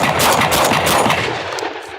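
A shotgun fires in a rapid string of loud, overlapping booms that roll together into a dense burst, then trail off into fading echoes, with no voices.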